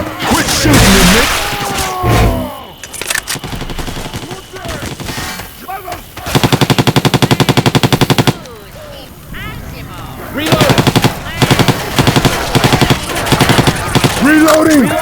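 Rapid automatic gunfire and single shots from Left 4 Dead 2 on the modded Parish campaign, loud and close, in long sustained bursts broken by whooshes and crashes, with a character voice shouting over parts of it.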